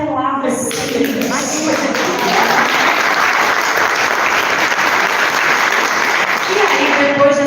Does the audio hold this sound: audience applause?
yes